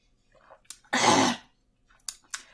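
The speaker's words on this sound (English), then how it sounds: "I can't get this cough." One sharp, harsh cough bursts out close to the microphone, followed by a few quieter throat sounds and breaths.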